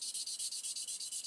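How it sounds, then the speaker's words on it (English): A sanding stick rubs rapidly over ejector pin marks on the plastic floor of a 1/32 Lancaster B.III bomber model, giving a close, steady rhythmic scratching of about eight quick strokes a second with no talking. "sanding stick and just try and make them a little less obvious"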